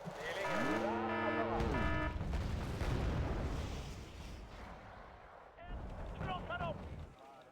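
Heavy artillery fire in a combat video game, a deep booming roar that swells and rolls for several seconds alongside harmonic engine or alarm tones, then quieter sustained rumble with brief chirping tones.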